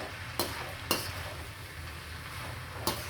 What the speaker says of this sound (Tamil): இது நல்லா வதங்கட்டுங்க